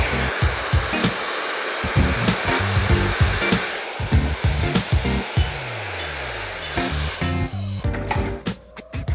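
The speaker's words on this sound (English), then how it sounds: "So we're gonna use a hair blow dryer." A handheld blow dryer runs steadily while drying hair just out of the shower, its loud airy whoosh constant and close, broken by repeated thumps and handling knocks, and then switching off near the end.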